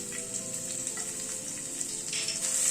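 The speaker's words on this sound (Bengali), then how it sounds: "রসুনটাকে আগে একটু হালকা করে ভেজে নিচ্ছি।" Five or six cloves of chopped garlic fry in a little oil in a pan, giving a steady, close, gentle sizzle with faint crackles throughout.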